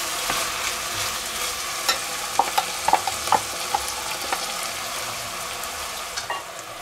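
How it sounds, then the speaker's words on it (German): Onions and vegetables searing in a hot pan alongside goose breast preparation: a dense, continuous sizzle with scattered spatula clicks and scrapes, close and moderately loud, with no talking. "Und das wird jetzt schön angebraten, das Gemüse."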